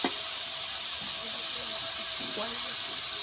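Chicken pieces fry in a pan for dudh chicken, giving a steady, close, bright sizzle and hiss throughout, with a soft voice talking underneath.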